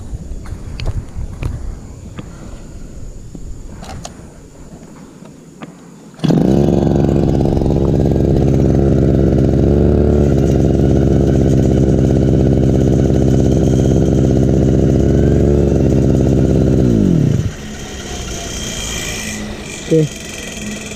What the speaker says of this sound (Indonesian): babat rumput ya, menggunakan mesin rumput Stihl FR3001